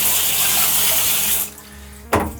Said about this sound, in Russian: Я могу обмывать детали